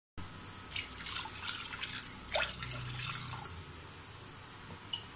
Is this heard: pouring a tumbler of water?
yes